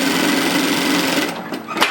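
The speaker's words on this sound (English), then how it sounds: "what we're going to do is just sew across that to secure it down just in from the edge" A sewing machine runs steadily as it stitches across an apron pocket to secure it just in from the edge, a continuous close whirring that slows and stops near the end.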